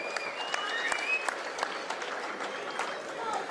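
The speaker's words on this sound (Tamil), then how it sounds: "அவருக்காக ஜோரா ஒரு முறை கைத்தட்டுங்க." Audience applause at a Tamil comedy speech event, a continuous crowd clapping at moderate volume with a faint voice underneath.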